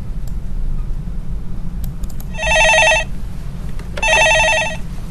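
Two bursts of an electronic telephone ring sound on a stock-market call-in show, each lasting under a second with a short gap between them, loud and clear over a low hum with no talk.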